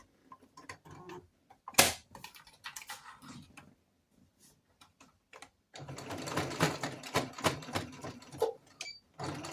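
A sewing machine stitches a garment slowly while a jumpsuit is refashioned into a tunic top, starting with a few sparse clicks and taps, then settling into a denser run of quick mechanical ticking near the end.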